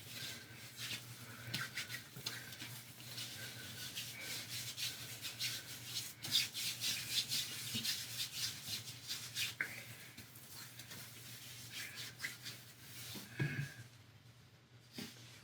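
Hands rubbing lotion into the skin of the forearms, a soft continuous swishing friction that rises and falls over a steady low hum, close and fairly quiet, fading near the end.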